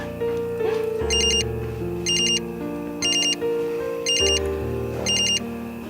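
A telephone rings in an Indonesian home drama, sounding five evenly spaced bright electronic bursts over a steady music bed.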